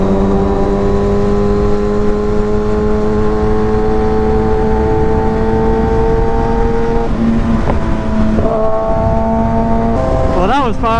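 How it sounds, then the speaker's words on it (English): Fast motorcycles on a highway roll race, a loud sustained high-revving engine drone that holds pitch, dips around a gear change, then surges again with wind roar, close throughout. "Them bikes are fast, boy."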